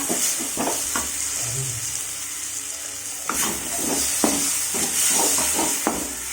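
Spices sizzle in a frying pan while a spoon scrapes and stirs in irregular knocks, close and moderately loud, without speech.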